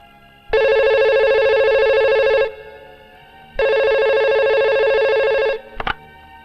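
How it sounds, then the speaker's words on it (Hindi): Telephone ringing late at night in a Hindi-dubbed South Indian film scene, two long loud electronic rings separated by a pause, then a brief click as it cuts off. "इतनी रात को फोन क्यों किया?"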